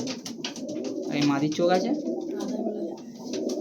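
Pigeons in a loft, including breeds such as Mashibuldar, Ablook, Kalanka, Kaldam and Rampuri, coo in low rolling calls up close while someone speaks over them.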